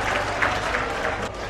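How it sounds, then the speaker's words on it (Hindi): Crowd clapping at a birthday celebration during a political gathering, steady dense applause with a few louder claps, moderately distant. "मैं विनती करता हूं कि जोरदार तालियां बजाकर उनका जन्मदिन सेलिब्रेट करें"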